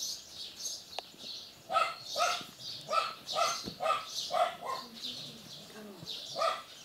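A dog barks repeatedly from a short distance in a rural setting, a series of about ten sharp barks in an uneven rhythm, with faint background noise and no talk over it.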